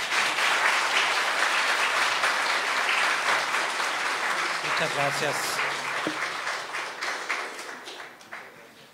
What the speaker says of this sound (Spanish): Les pido nuevamente un fuerte aplauso